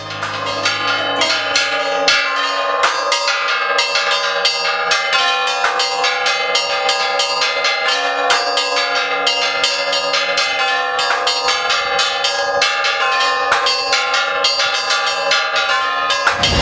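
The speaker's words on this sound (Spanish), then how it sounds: "él es el encargado de hacer el bello sonido de las campanas acá" Church bells ring continuously in Paucartambo, Peru, in a rich, overlapping peal, with repeated strikes blending into a sustained metallic shimmer.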